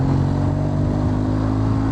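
A BMW R1200GS motorcycle engine running hard on a Pacific Northwest rainforest road, a loud steady drone with a sustained throaty hum.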